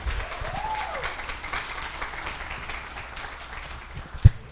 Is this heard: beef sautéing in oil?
no